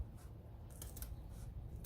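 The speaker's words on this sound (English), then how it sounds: "I'm taking small bites with the scissors to try to get a cleaner cut." Scissors take small snipping bites through template material for a custom car heater build, a few quick crisp cuts in a quiet garage setting over low background rumble.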